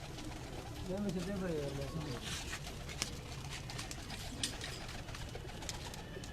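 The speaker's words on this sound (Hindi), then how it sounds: "सदाम कबूतर पकड़ के रखना" Pigeons coo on a rooftop pigeon loft in Rawalpindi, soft low throaty calls early on amid outdoor background noise and faint chatter, with people talking nearby.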